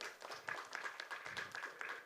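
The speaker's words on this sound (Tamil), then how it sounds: "அவருக்கு நல்ல ஒரு கரகோஷம் கொடுங்க, நல்லா கிளாப் பண்ணுங்க." Applause and clapping from an audience at a movie press meet, a dense, steady patter of many hands that fills the short stretch without a break. It is fairly quiet and sounds as if heard from within the room.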